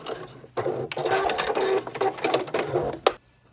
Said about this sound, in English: And back stitching again.